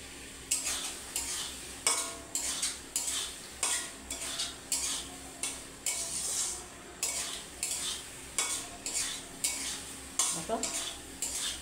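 A spoon stirring fried potatoes into a cooked spice masala for an egg and potato curry, rhythmic scraping strokes against the pan about every half second over a low sizzle, close and steady, no speech.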